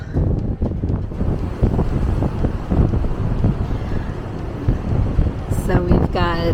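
Loud, gusty wind buffets the microphone steadily on a cruise ship's deck at night, with a deep roar throughout and a brief voice near the end.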